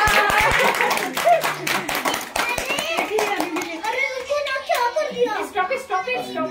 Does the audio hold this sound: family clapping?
yes